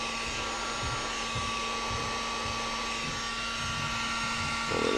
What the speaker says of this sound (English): heat shrink your orange cord so it adheres to those wires